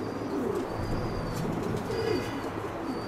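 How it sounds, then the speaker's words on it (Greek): Pigeons cooing outdoors at a rooftop loft in Egaleo on a windy day, soft repeated coos over a steady rush of wind and background hiss; wing flaps are not clearly distinct. "Τα περιστέρια του φίλου μας του Νίκου, του Καραπέτη, εδώ στο Εγάλαιο."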